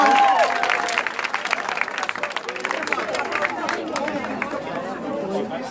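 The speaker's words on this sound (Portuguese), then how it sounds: "Uma salva de palmas pra todos eles" Applause and crowd chatter rise at a poetry open-mic evening at a literary festival in Brazil, a steady wash of clapping mixed with babbling voices and a brief whistle near the start.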